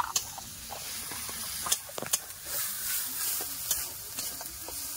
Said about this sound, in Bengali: সব ভালো করে কষে নেবো।